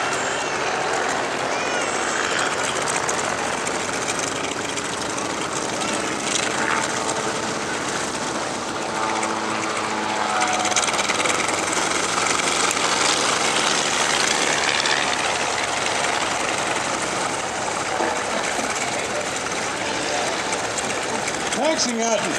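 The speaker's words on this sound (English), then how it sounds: "Taxiing out in front is an HU-16 Albatross" HU-16 Albatross amphibious aircraft taxiing at an airshow, its piston engines giving a steady, rough drone throughout, with a person talking over the engine noise.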